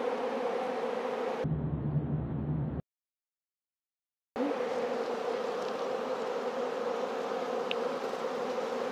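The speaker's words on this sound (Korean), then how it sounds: "보시면 여기 화분을 들고 들어오는 벌이 있죠?" Honeybees carrying pollen crowd at the entrance of a hive, a close, steady buzzing drone that runs on, briefly cut off for a moment of silence before resuming just as dense.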